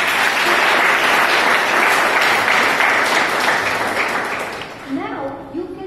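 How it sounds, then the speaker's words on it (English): An audience at a speaking club meeting gives a loud round of applause that swells, holds, then tapers off near the end, where a voice starts to speak. "Give him a round of applause."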